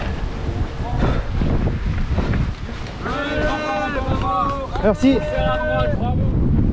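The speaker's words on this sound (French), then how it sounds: "Il y a tellement de vent," Strong wind buffets the microphone on a coastal trail during a 92 km ultra trail race along the Côtes d'Armor shore, a rough, continuous rumble beneath steady conversation between runners.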